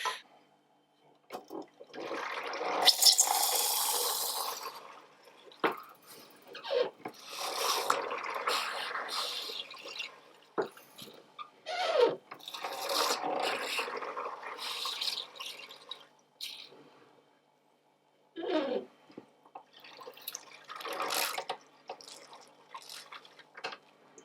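Beer pours from a Pint365 home beer tap into a half-pint glass in several separate bursts of liquid running and splashing, near and fairly loud, with short pauses between pours and no talking.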